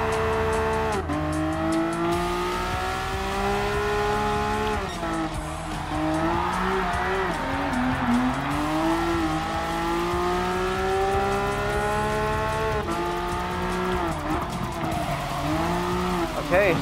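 Porsche race cars in Gran Turismo Sport roar past with a loud, continuous engine drone that climbs and drops in pitch through gear changes, tires squealing, while someone talks over the racing.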